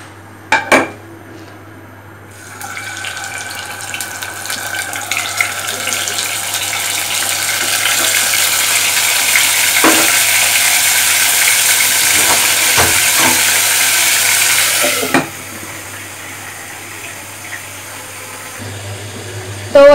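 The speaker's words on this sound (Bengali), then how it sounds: "ওইদিকে হচ্ছে মাংসটা ভাজার জন্য আমি দিয়েছি" Marinated meat sizzles in a hot wok with a steady, broad hiss that builds, holds for several seconds and then drops away, with a few sharp clinks of utensils against the pan.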